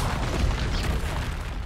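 Confringo blasting spells exploding in the video game Hogwarts Legacy, a loud, dense, continuous roar of booming bursts that fills the whole stretch without pause.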